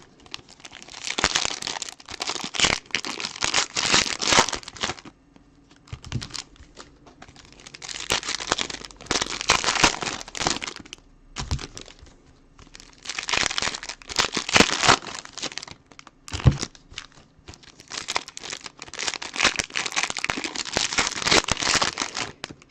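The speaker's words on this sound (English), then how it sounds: "We're about to be, as soon as we can get all the cards out of the wrappers here." Plastic trading card pack wrappers for football and basketball cards being torn open and crinkled, loud crackling bursts in several bouts separated by brief pauses, close to the ear with no talking.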